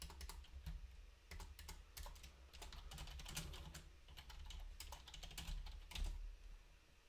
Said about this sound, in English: I'm just typing in like that because I can't confirm.